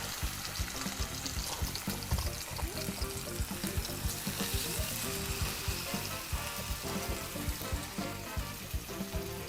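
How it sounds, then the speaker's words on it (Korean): Fish fries skin side down in olive oil with garlic, giving a loud, steady sizzle and crackle of hot oil close by, with small pops throughout and no talk. "생선을 구울 때는 껍질 쪽을 먼저 넣어주셔야"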